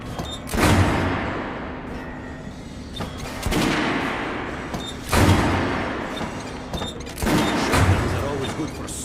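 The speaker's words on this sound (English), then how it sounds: "The Kalash is the workhorse of the Ranger arsenal." Kalashnikov rifle fire in the video game Metro, four heavy booming bursts spaced a couple of seconds apart, each trailing into a reverberant echo, loud and close.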